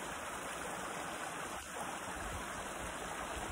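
Minister Creek rushes steadily over rocks in a quiet spring forest, a continuous broadband wash with no distinct splashes, fairly faint and uninterrupted.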